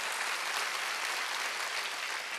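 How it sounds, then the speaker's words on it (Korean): Church congregation applauding during a Korean Wednesday worship service, a continuous even wash of many hands clapping together, fairly full and steady with no talk over it. "박수."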